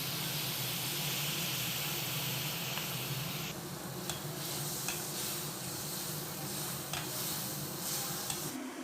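Tomato puree and onions sautéing in a pan, a steady close sizzle and hiss with faint stirring clicks, continuous throughout with no talk.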